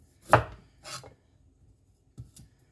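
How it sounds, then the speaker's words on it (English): A knife trims the rough edges off a cauliflower, making three or four short, crisp cutting and scraping strokes on a board with quiet pauses between them, and no one talks. "I want to do a cauliflower rice later this week, so I'm just going to take all them rough edges off"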